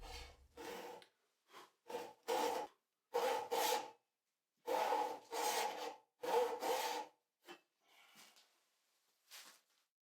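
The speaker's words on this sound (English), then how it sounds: "He is cutting parallel with the tenon first to keep these portions from ripping out into the front and back surfaces of the rail." Hand saw cutting tenon cheeks in a wooden door-frame rail, heard as short rasping saw strokes in irregular bursts with brief pauses between, close and fairly quiet.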